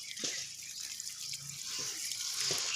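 Water running steadily from a hose watering plants in summer, with a soft hiss and a few faint splashes and knocks underneath.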